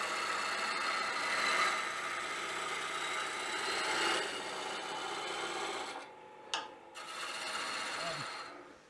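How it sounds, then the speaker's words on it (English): A wood lathe spinning while a 5/8 bowl gouge makes planing cuts, giving a continuous close scraping hiss with a brief pause and a few clicks before cutting resumes. "Switch to a 5/8 robust bowl gouge. Do some planing cuts here."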